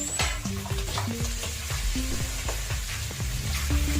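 Carrots stir-fried in chicken fat in a pan, a steady sizzle running beneath repeated scraping and clattering of a utensil stirring the vegetables, close and continuous with no talking.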